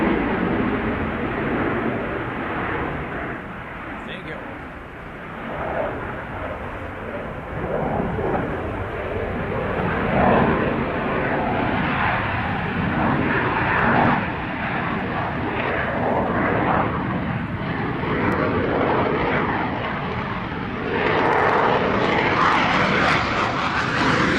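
A Belgian display aircraft, a type first flown 42 years ago, roars past at an airshow, its broad engine noise loud and sustained throughout with swelling and easing intensity.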